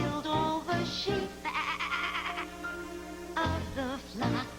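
Sheep bleating in a children's show, several wavering nasal bleats in a row, a long quavering call in the middle and two shorter ones near the end, fairly close and alone without talk.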